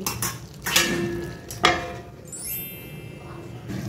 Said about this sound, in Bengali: এবার 5 মিনিটের জন্য আমি ঢাকা দিয়ে দেবো লো ফ্লেমে